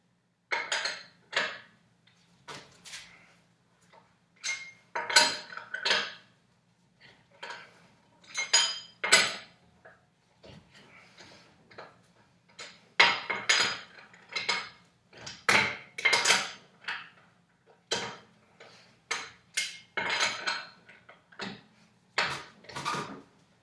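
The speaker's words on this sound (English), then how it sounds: "So we'll go ahead and loosen our lug nuts." Car lug nuts loosened with a wrench, irregular metallic clanks, clicks and rattles in scattered bursts at close range with quiet gaps between.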